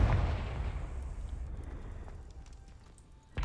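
A Confringo fire spell in the Hogwarts Legacy video game goes off as a loud, booming explosion that rolls away into a fading rumble, followed near the end by a second sharp blast.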